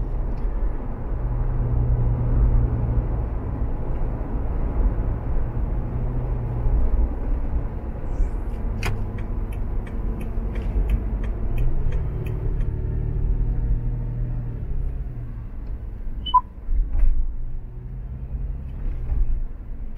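A Toyota FJ Cruiser rolls along a road, its steady low engine and tire rumble continuous from inside the cabin, with a few faint clicks partway through.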